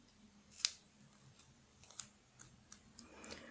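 A couple of sharp scissor snips cutting duct tape, faint and close, followed by soft clicking and handling noises in a quiet room.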